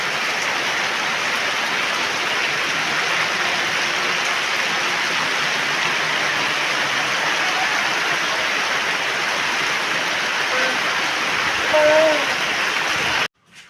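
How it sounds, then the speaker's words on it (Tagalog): Heavy rain pours steadily in a dense, constant hiss, with a faint voice briefly heard near the end. "Nagpit ang inilalakas ng ulan."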